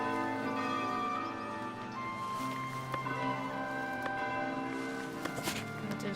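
A bell tower in a video game sounds the note C, a sustained ringing bell tone with layered overtones that decays slowly, struck again several times with soft knocks, fairly close and without talk.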